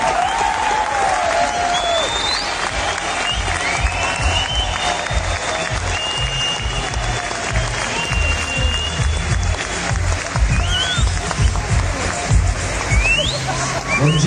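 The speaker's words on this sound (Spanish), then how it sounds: "eu queria receber o Branko com uma salva de palmas" A large crowd at a political gathering in Santa Catarina, Brazil, applauds loudly and steadily to welcome a Bolivian presidential hopeful, with cheers and whistles rising over sustained clapping.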